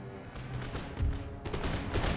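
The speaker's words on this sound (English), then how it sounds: "Gunfire is keeping away the bulk of the enemy cavalry." Musket gunfire in the strategy game Empire: Total War, ragged volleys of shots crackling and booming in quick succession, loud and close over a rumbling battlefield backdrop.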